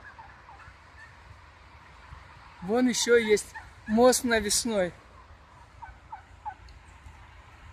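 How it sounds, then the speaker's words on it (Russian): Turkeys grazing near the Kuban river gobble in two loud bursts of rapid rattling calls, close by, while someone speaks over quiet outdoor background. "У Кубани пасутся индюки."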